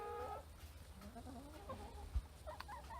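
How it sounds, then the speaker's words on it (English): Hens on a farm with a barn under construction cluck and murmur softly nearby, scattered short calls and a few low croaks over a quiet outdoor background. "Just come say hello to the chickens."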